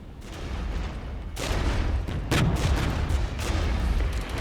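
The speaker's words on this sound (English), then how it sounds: "Some pretty serious artillery fire" Heavy artillery fire in a Cold War real-time strategy game, a dense rumbling barrage of booms and crackling blasts that builds in loudness, with sharper impacts breaking through partway, continuous and without voices.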